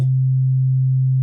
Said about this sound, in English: We've got a sine wave at 138 hertz